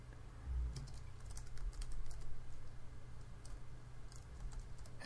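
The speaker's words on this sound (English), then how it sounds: "Let me get that typed in here." Quiet, continuous clicking of fingers typing code on a computer keyboard, with irregular rapid keystrokes over a low background hum and no voices.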